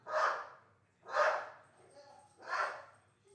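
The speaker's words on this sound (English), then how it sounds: "I wonder what she's barking at." A dog barks three times indoors at a distance, evenly spaced about a second apart, moderately loud with a faint whine between the barks and no talk over them.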